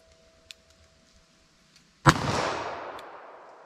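A single handgun shot, fired with 9mm +P or .38 Special +P Sig V-Crown ammunition, cracks loudly at close range and rings out in a long decaying echo after a few seconds of quiet outdoor ambience.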